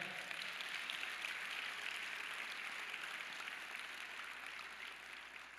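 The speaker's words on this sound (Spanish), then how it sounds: "Dale el aplauso a Él." A church congregation claps in a soft, continuous wash of applause, faint and distant, with an even texture that holds steady to the end.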